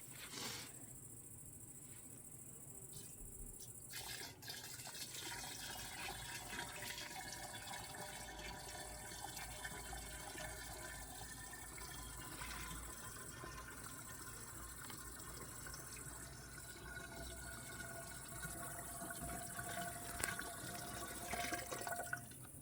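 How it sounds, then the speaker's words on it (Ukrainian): Water poured into a honey wine mix for a cherry mead, a faint continuous trickling and splashing of liquid filling a vessel, fairly quiet and steady with small clinks. "беремо водичку, доливаємо"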